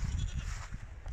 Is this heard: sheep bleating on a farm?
yes